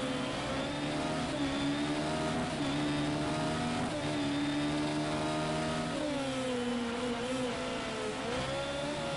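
Race cars lapping the Bathurst circuit in a racing video game, several engines droning steadily together at mid distance, pitch rising and dipping with gear changes, no voices present.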